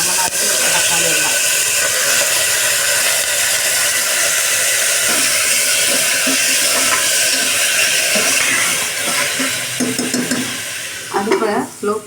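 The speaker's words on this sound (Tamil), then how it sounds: "இப்போ இஞ்சி பூண்டு பேஸ்ட் போட்டுக்கலாம்" Ginger garlic paste sizzling loudly in hot oil in a pan for tomato rice, a steady dense hiss with stirring scrapes near the end.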